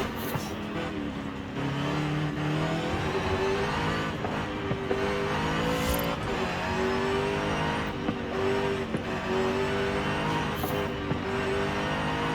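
A Jaguar SVR engine roars continuously in Forza Horizon 5, revving hard through rising and falling gear pulls at high speed, loud and unbroken, with no voices.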